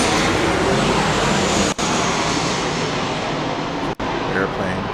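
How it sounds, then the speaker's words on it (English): An airplane passes overhead near an old Crown Series II school bus, a loud, even broadband roar that fills the whole stretch with two brief dropouts. "Airplane flying over."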